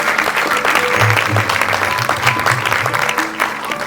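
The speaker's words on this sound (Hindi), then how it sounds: "एक बार जोरदार तालियां" An audience claps hard and continuously in a dense, fairly loud burst of applause that fills the whole moment.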